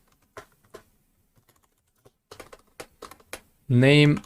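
Computer keyboard typing as an SQL query with a LIKE clause is entered in MySQL: sparse, close key clicks in short clusters, followed at the end by a brief loud tonal voice-like sound.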